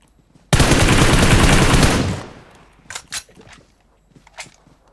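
Rapid automatic gunfire from a shooter video game rattles loudly for about one and a half seconds, fading into a few scattered shots and clicks.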